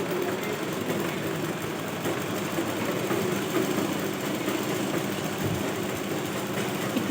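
A sewing machine runs steadily while stitching a kalidar ghagra skirt, giving a continuous close, loud mechanical whir with no pauses.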